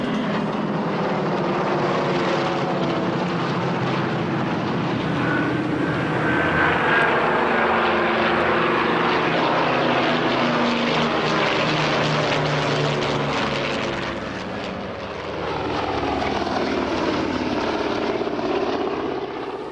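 Vintage propeller warplanes such as AT-6s, a P-51 Mustang and a Japanese Zero at a 1995 air show, a loud continuous engine drone swelling and fading as the aircraft pass, with no talk.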